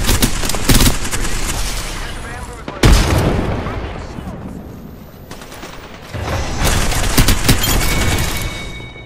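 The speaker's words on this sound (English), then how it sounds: "shots fired and they're hitting me" Gunfire in the video game Apex Legends comes as loud bursts of rapid shots with impacts and booms that keep going almost without a break. A voice talks over the shooting.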